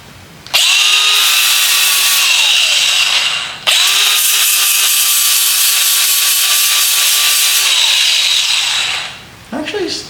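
A TEENO 3-inch battery-powered flap disc grinder runs in two long bursts, a loud steady high whine with a brief dip between them, then spins down and stops near the end.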